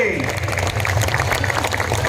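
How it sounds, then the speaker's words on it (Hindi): Continuous applause from a big tribal rights rally crowd in Ambikapur, a thick wash of clapping that stays level, with a voice over the loudspeakers at the opening. "ताली रुकना नहीं चाहिए।"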